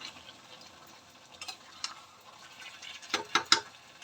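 Chicken fries in a pan with red chili spices as a little water is added, giving a soft, steady sizzle that breaks into a few sharper spits and crackles near the end.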